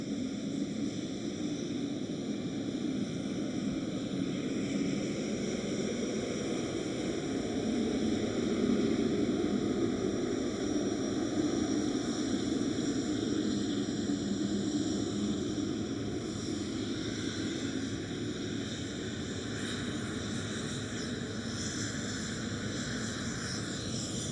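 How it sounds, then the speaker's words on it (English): A Boeing 777 freighter taxiing very slowly at Schiphol airport, its jet engines giving a steady, fairly loud broadband roar and whine that holds even for the whole stretch with no talk. "Very slowly taxiing. It's 777 freighter."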